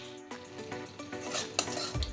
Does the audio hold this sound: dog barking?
no